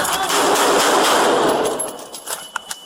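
Rapid burst of police gunfire inside an apartment during a confrontation, loud and continuous for about two seconds, then fading into a few scattered sharp cracks.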